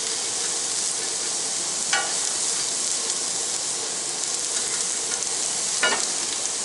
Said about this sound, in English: We're going to cook these onions and peppers real slow.